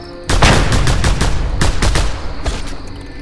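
Pistol gunfire in the video game Just Cause 2, a rapid burst of loud, close shots, roughly a dozen cracks fired in quick succession with no talking.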